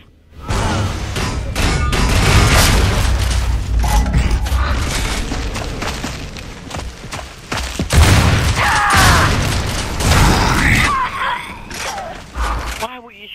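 Repeated gunfire and thudding mechanical clatter in a first-person shooter video game, rapid bursts running almost continuously with brief gaps, loud and close, with talk mixed in.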